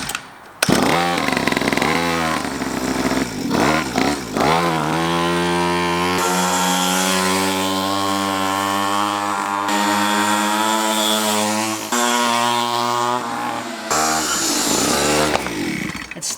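A cheap pull-start motorbike engine runs loudly and close for the whole stretch, its buzzing two-stroke-like drone rising and falling with throttle blips, with no talking.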